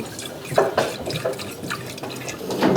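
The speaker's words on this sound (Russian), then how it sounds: "Я наливаю колбу большего объема." Concentrated hydrogen peroxide solution is poured into a larger glass flask in a lab demonstration, giving an uneven run of close, splashy liquid pours and gurgles.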